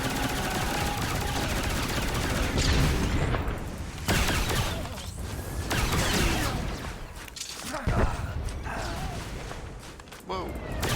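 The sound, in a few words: rocket fire and explosions in a Star Wars video game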